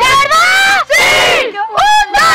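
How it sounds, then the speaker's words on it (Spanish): A youth football team of young boys at an under-eleven eight-a-side tournament shouts their battle cry together, loud chanted bursts in a rhythmic pattern with short gaps between phrases, close and dominant. "todos los equipos tienen un grito de guerra"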